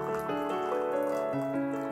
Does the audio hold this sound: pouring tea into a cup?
yes